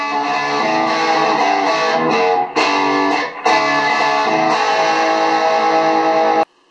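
Overdriven electric guitar through a Marshall Vintage Modern amp, loud and continuous with thick distorted chords ringing for several seconds, two brief dips in the middle, then cutting off abruptly near the end.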